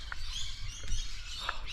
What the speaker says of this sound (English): bloody birds